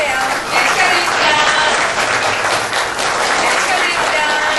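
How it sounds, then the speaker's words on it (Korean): Warm, sustained applause fills an award ceremony hall for the Korea Brand Awards, a dense crowd of hands clapping steadily and loudly throughout with no break. "내빈 여러분들께서는 뜨거운 박수로 다시 한번 축하해 주십시오"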